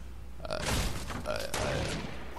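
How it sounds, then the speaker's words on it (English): Gunfire crackles in Fortnite, a quick cluster of muffled shots at moderate distance with a player's voice talking over it. "Somebody's shooting him."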